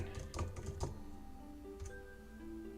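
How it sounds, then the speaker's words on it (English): Computer keyboard typing into a search box while playing EverQuest, a quick burst of clustered keystrokes at the start and a couple more taps later, close and fairly quiet over a steady hum of game background tones. "Let's type in just animation."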